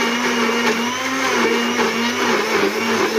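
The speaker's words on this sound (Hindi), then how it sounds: "और अब हम इसे कर लेते हैं ब्लेंड।" An electric blender runs continuously at close range, grinding onion, ginger, garlic and tomatoes into a masala paste. It makes a loud, steady motor whir with a rough churning texture and no speech.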